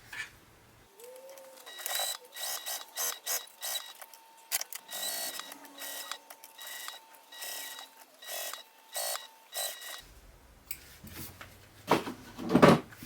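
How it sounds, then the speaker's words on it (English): A sewing machine runs in short bursts as it bastes raw fabric edges and topstitches along the sides of a crossbody bag, with brief pauses between runs and a small click near the end. "So I can baste the raw edges, and then I can top stitch along the other sides."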